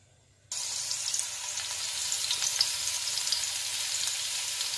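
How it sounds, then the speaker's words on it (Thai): Garlic stir-fries in oil in a pan for a Thai spicy chicken stir-fry. A steady, bright sizzle bursts in after a brief silence and holds close and even, with no talking. "ใส่น้ำมันลงไป เปิดแก๊สก่อนนะคะ คั่วกระเทียม"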